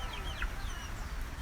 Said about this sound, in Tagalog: Yan mga manok natin guys, oh.